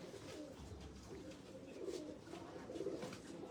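Pigeons coo continuously at a loft in Jinnah Garden, Islamabad, a dense overlapping chorus of low throaty calls at steady moderate volume with no talk.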